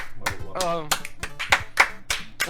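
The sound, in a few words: two people clapping hands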